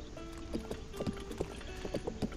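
Rapid horse hoofbeats clip-clop at a steady trot in The Legend of Zelda: Breath of the Wild over a constant background hum, each strike crisp and fairly close.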